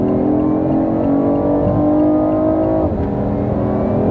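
A BMW i8 accelerates hard on the autobahn, its engine a loud, continuous close drone that holds steady with a slight dip near the end, heard from inside the car with no talking.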